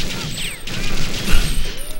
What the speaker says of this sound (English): All these fucking nades going off